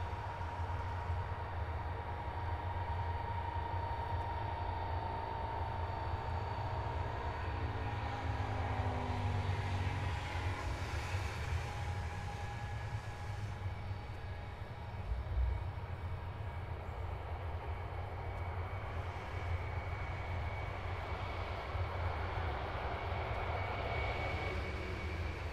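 Ilyushin Il-78 tanker engines roar steadily through takeoff, a loud, sustained jet rumble with whining tones that shift in pitch, heard continuously from inside the aircraft.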